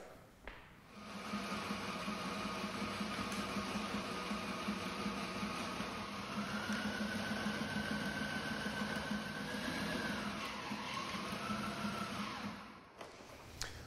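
A sewing machine stitching sail panels together for a dinghy sail, a steady close mechanical hum that runs without a break for about twelve seconds and then stops, with a slight rise in pitch midway.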